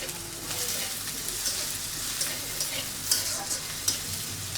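Onions fry in about a teaspoon of oil for a country chicken curry, giving a steady dense sizzle with occasional stirring scrapes and pops, close and continuous, no talk.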